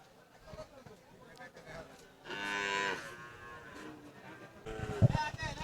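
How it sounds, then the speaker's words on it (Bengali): At a cattle market in Pabna, Sahiwal cattle and calves give two drawn-out, fairly loud moos, one in the middle and one near the end, over a busy background of low crowd murmur. "এই যে এই পাশ দিয়ে খুব সুন্দর সুন্দর শাহিওয়াল জাতের বাছুর আছে"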